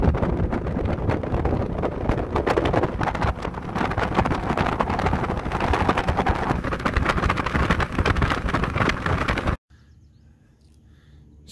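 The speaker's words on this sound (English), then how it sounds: "We're in a 1990s Ranger, which is a beautiful boat" Steady, loud roar of a 1990s Ranger motorboat engine on the Ottawa River, mixed with heavy wind buffeting the microphone, cutting abruptly to a quiet hum near the end.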